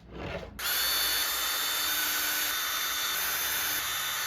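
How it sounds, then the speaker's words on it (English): A power drill with a small bit spins up abruptly after a brief rustle, then whines at a steady, loud pitch while boring holes through a nylon cutting board. "little drill bit, and I'm just going to drill out the holes here for each of the devices."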